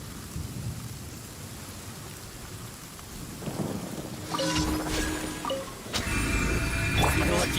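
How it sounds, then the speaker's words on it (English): Steady rain patters throughout in Genshin Impact, then loud rumbling thunder crashes roll in near the middle and continue with bursts of electronic tones. "Let us find shelter from the rain."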